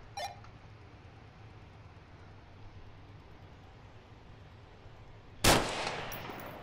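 A single sharp sniper rifle shot cracks out loudly near the end in the VR military shooter game Onward, after a long quiet stretch of low hum, and trails off in a short ringing tail.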